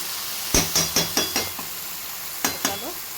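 Kochur loti cooking in a pan gets a quick burst of stirring, with five or six sharp metallic clinks of a spoon against the pan, a pause, then two more taps over a faint sizzle.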